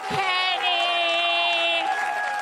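Crowd noise from a comedy club audience at a stand-up show, a swelling burst of cheering and applause with whoops and sustained voiced cheers, loud and close throughout.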